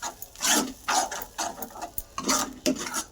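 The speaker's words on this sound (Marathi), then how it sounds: "मस्त याला परतून घेऊ आपण एकजीव करून घेऊ" Masala stir-fried in a pan for a garlic and fenugreek dish: rhythmic, scraping spatula strokes in bursts over a light sizzle, close and moderately loud, with no voices.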